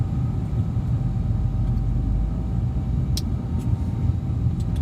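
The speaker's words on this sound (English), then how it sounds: "It's always traffic." Road traffic on the 91 freeway heard from inside a vehicle, a steady, loud low rumble of engines and tires continuing throughout with no talking.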